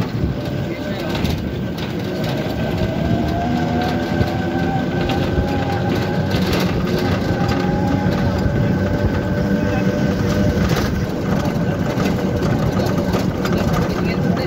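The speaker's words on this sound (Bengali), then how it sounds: "আমাদের অটোটা এখান থেকে ঢাল দিয়ে পেয়ে উঠছে, খুব জোস।" An auto-rickshaw engine labours steadily up a slope on an unpaved dirt road, a continuous loud rattling drone with a voice talking over it throughout.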